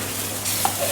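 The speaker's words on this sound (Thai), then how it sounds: "กุนเชียงทอดด้วยน้ำนะครับ รอน้ำเดือดแล้วก็ใส่กุนเชียงเข้าไป" Chinese sausage fries in boiling water in a pan, giving a continuous loud sizzling and bubbling hiss, close up, with a brief stirring scrape partway through and no voices.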